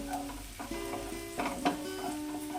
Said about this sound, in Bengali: সামান্য নুন সামান্য হলুদ দিয়ে বেরেস্তা ভেজে নেব